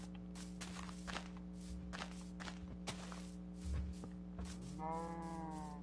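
A Minecraft cow gives a low moo near the end, mixed with soft footsteps over a steady hum.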